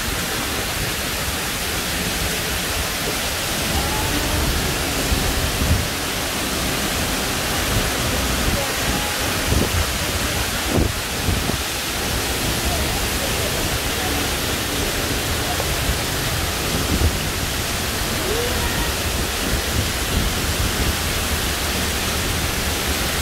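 The Misol Ha waterfall roars in a thick, unbroken rush of falling water, loud and close, filling the whole scene with steady broadband noise and only faint bumps of movement nearby.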